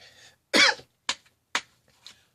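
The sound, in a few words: coughing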